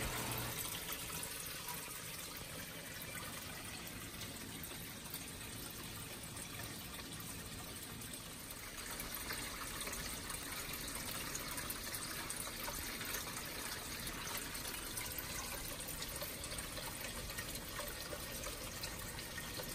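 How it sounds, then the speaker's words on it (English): Water drains and splashes into an uncovered Bashsea Smart Series 36-inch aquarium sump, a continuous loud rushing gush with constant spattering throughout. "there's no cover on this sump, and it's loud, and with high water drain volumes, it splashes out"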